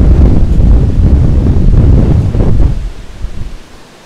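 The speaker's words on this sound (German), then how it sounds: "und dann windet es noch" Strong wind buffets the microphone in loud, rumbling gusts on the path to the Caminito del Rey in Andalusia, Spain, then eases off toward the end.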